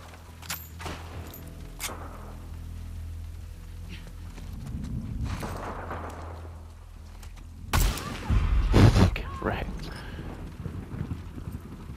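Gunfire in The Last of Us Part II, including shotgun blasts, comes in sharp bursts between stretches of ambient rumble and wind noise. A heavy, loud cluster of shots lands near the end.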